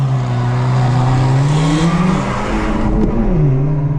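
A cold manual-transmission car's engine revs up, drops as the clutch bites during a launch, then climbs steadily in pitch as it accelerates hard through the gear, loud and close.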